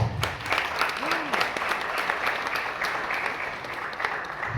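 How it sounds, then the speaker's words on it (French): An audience claps steadily at a talk on multi-level marketing and middlemen, dense, even applause filling the room throughout. "est-ce que vous pouvez applaudir pour cette image"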